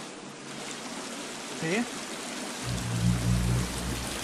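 A waterfall in the survival game The Forest gives a steady broadband rush of falling water that carries on throughout, with a brief murmured voice and a low hum near the end.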